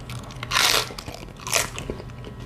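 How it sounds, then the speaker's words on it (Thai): Crunchy raw cabbage is bitten and chewed up close. Two loud, crisp crunching bites are separated by softer chewing sounds. "แซ่บฮะกระหล่ำกรอบๆครับ"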